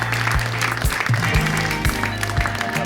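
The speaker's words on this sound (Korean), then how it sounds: "박수로 맞아주십시오" Studio audience applause greets a guest, baseball player Park Chul-soon, on a KBS broadcast, the clapping mixed with loud, sustained band music whose tones shift pitch, all close and fairly loud.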